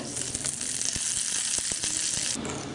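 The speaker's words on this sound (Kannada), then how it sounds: "ಸಾಸಿವೆ ಪಟಪಟ ಅಂತ ಇದೆ ನೋಡಿ" Hot oil crackles with rapid, irregular pops as mustard seeds splutter and burst, close and steady throughout without any talking.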